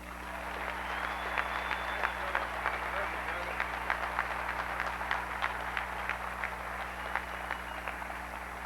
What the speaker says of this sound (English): that's more applauding one day than I got in about 3 years up there